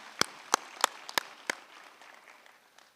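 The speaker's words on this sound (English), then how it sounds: "Can we give another hand of applause," A handful of sharp, separate hand claps at a university graduation ceremony, about six distinct claps close together that quickly fade into faint scattered clapping.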